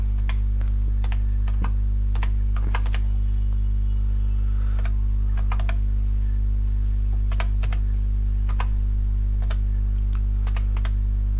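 Java code is typed on a computer keyboard, rapid irregular clicks of keys in short bursts and pauses over a steady low electrical hum, with no voices.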